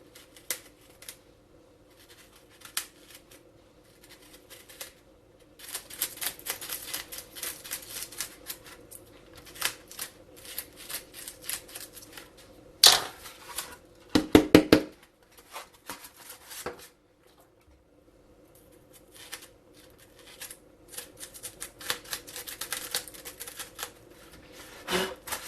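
Cutting foam or balsa parts of a Thor glider for a test fit: scattered light snips and scraping cuts, close and fairly quiet, coming in irregular bursts with pauses between them and a few sharper clicks.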